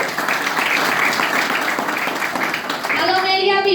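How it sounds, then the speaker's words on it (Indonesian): Seminar audience in a business presentation hall breaking into sustained applause, dense clapping steady throughout, with a voice rising briefly over it near the end. "Beri aplaus untuk propolis."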